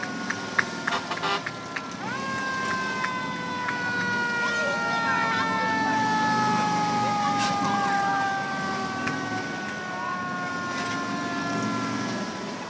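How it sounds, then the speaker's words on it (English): Fire truck sirens wail in long rising and falling tones as the engines roll past in a Fourth of July parade in Edmonds, loud and sustained over crowd and street noise. "We have all the fire trucks coming our way."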